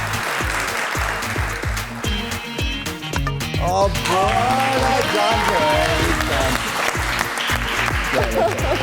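A studio audience at a Pakistani TV talk show applauds a cricket player with loud, sustained clapping. A voice talks over the clapping through much of it.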